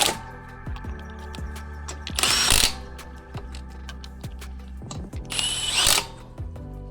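Impact tool running lug nuts onto a C8 Corvette wheel hub, two loud bursts of whirring and rattling hammering separated by ratcheting clicks and mechanical handling noise nearby.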